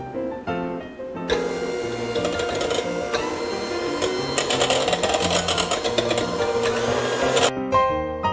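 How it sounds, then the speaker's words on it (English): An electric mixer beats macaron batter with a loud, steady whirring drone that starts abruptly, runs for several seconds with slight wavering and rattling, then cuts off. "Mix this together for another minute or so."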